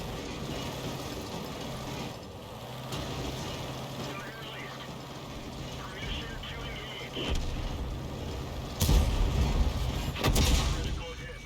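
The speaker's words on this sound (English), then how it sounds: "the enemy Arty is firing at him" Enemy artillery fires at a tank during a World War II tank video game with Panzer IV H and Panzer III J tanks, giving a few dull booming impacts late in the clip over steady battle noise and ongoing talk.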